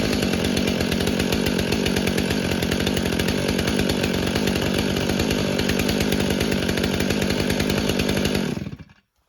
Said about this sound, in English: So there you have it, a cold start on the Stihl MS500i.